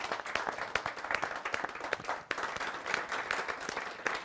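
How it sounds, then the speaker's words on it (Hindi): A Hindi kavi sammelan audience claps steadily to welcome poet Ashish Anal, a dense, even wash of applause throughout with a brief dip midway. "एक बार हम तालियों के साथ स्वागत करें भाई आशीष अनल का"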